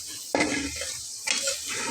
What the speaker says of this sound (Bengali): তো অলরেডি একটা রসুন ফেটে গেল